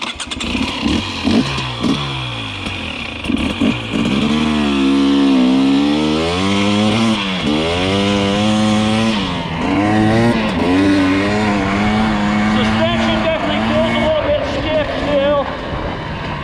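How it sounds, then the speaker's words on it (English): A 2020 KTM 250XC TPI two-stroke dirt bike is ridden hard, its loud engine revving up and down in rising and falling sweeps close to the rider, with brief talk at the start. "Engine is just buttery smooth."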